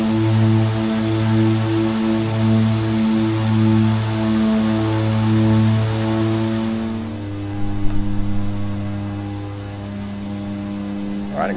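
A Twin Otter turboprop engine adding power on approach to Lukla, heard as a loud steady droning hum with strong pulsing tonal bands that then shift and settle into a smoother even tone.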